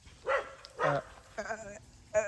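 A female dog gives four short, gruff bark-growls close by, each a brief rough burst separated by pauses, in a quiet outdoor setting.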